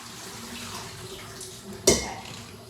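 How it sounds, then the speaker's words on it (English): Cooked noodles for pad thai poured into a strainer over a kitchen sink give a soft running-water wash, followed by a sudden splashing gush as the water drains out. "Just strain these over the sink so that we remove all the water"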